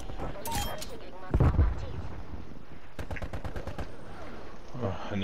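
Rapid LC10 submachine gun bursts in a Call of Duty Cold War team deathmatch on the Rush map, sharp repeated shots in quick succession mixed with game sounds and someone talking over them.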